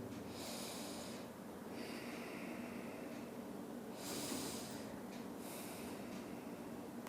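Slow, audible breaths during a yoga mudra session, drawn in and let out in long airy swells against a steady low hum, close and fairly quiet with no talking.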